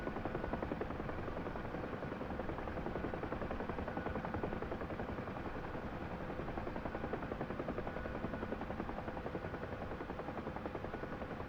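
A Huey helicopter in the combat flight sim DCS World flies low over trees, its rotor chop forming a steady rapid beat under a constant engine roar, loud and unbroken throughout.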